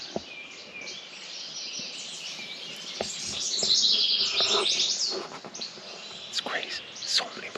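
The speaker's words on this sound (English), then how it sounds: "They're just everywhere. There's a robin there." Birds, a robin among them, chirp and sing all around outdoors, a dense overlapping chorus that swells in the middle, with scattered sharp calls and a low whispering voice.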